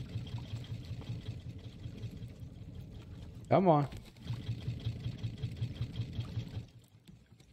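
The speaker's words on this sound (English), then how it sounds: "We probably need to put some planks in the engine." Boat engine in the survival game Raft running steadily as a low, continuous droning hum, with people talking over it and a brief louder burst of voice partway through.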